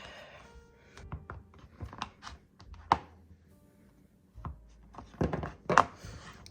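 A knife cutting through nougat candy on a board: a series of irregular dull thunks and scraping slices, close and fairly clear, with short pauses between cuts.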